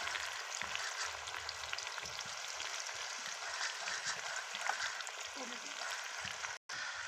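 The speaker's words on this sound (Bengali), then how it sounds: "এখন পেঁয়াজ ছাড়া হচ্ছে, পেঁয়াজ রসুন ফ্রাই করা হবে, তার সাথে একটু লবণ" Onion and garlic fry with a little salt in a pan, giving a continuous crackling sizzle with scattered pops and stirring scrapes, close and even throughout.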